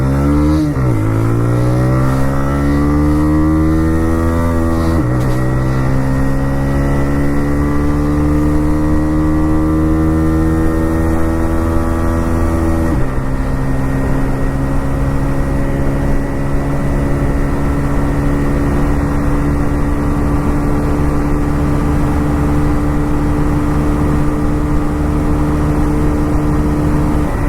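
TVS Raider commuter motorcycle engine revved hard to the redline while riding on a track, rising pitch climbing through each gear with sharp drops at upshifts, loud and close, then a sustained high-revving drone.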